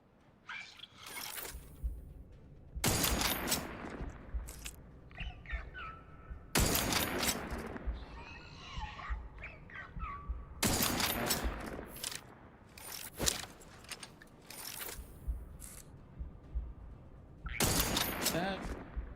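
Sniper rifle shots ring out in The Outer Worlds 2, several sharp, loud broadband cracks spaced a few seconds apart, each trailing into a brief decay, with someone talking in between.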